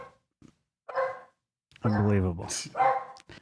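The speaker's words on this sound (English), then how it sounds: "dog is barking" A dog barks several times nearby in short, sharp yaps spread unevenly across a few seconds, with a voice speaking between and over the barks.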